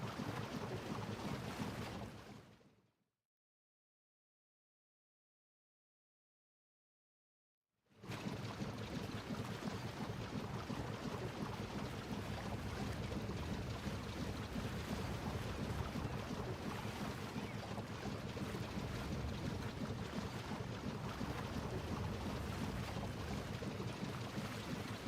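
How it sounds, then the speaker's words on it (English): Boat sailing on open water in Book of Travels, a steady wash of wind and waves that cuts to silence for a few seconds and then returns as a continuous, even rush. "I wish this boat would go faster."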